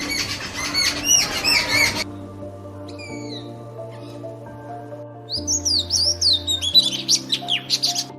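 Birds chirp and tweet in repeated bright bursts at an outdoor landscape site, loud at the start and again near the end, with sustained steady tones running underneath throughout.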